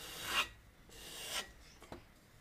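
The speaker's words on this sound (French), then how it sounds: "faut que je gratte ici" A tool scrapes and rasps against a stoneware pottery bowl in two quiet strokes, followed by a short tap, with no talking.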